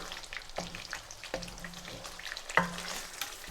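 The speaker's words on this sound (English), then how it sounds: "the Kasuri Methi getting fried" Kasuri methi, dried fenugreek, frying in a rich masala base for a shahi paneer curry, a soft steady sizzle with occasional spoon stirs and one sharper clink.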